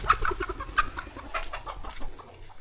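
Chickens on a rural household property cluck and squawk in short, scattered bursts, moderately near but fairly quiet, with a rustle of movement in between.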